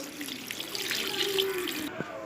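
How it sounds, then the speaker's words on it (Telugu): Water pours into a cooking pot for drumstick leaf dal in a home kitchen, a short, steady splashing stream lasting about two seconds before cutting off. "తగినన్ని వాటర్ పోసుకుందామండి."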